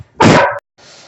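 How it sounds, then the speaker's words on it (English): One loud, close dog bark rings out indoors, followed by a fainter second yelp after a brief pause, with no voices. "Okay, sorry about the dog alarm."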